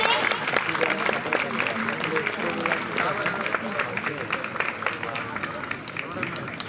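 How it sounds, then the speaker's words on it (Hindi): At a school assembly, a crowd of students applauds to welcome the principal. Sustained, dense clapping blends with crowd murmur and voices at a moderate distance. "तो जोरदार ताली के साथ उनका स्वागत करें।"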